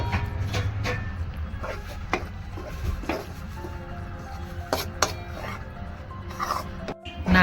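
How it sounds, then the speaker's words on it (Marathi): Ragi (finger millet) flour roasting in a pan over a low flame, with a spoon scraping and tapping against the metal in irregular clinks and rasps, close and steady. "नाचणीचं पीठ मंद गॅसवर छान भाजून घेतले"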